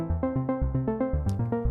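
An airy arpeggiated pluck synth from FL Studio's Sytrus passing through an SVF filter with its cutoff set midway, playing quick, evenly spaced notes that each decay fast in a bouncing pattern.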